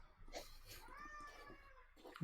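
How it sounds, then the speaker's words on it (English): An angry cat yowls in a drawn-out, wavering caterwaul with short meows before it, fairly quiet and close, with faint speech-like sounds mixed in. "Very angry cat."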